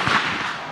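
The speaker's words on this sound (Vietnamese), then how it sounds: "Phát bắn thứ hai chính xác." A single rifle shot at a sniper competition, a sharp crack with a brief rolling echo tailing off, loud and close.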